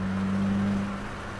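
A 2022 Subaru WRX on a track day at Waterford Hills drones under throttle, a steady near engine note holding loud for about a second before easing slightly, with no talk.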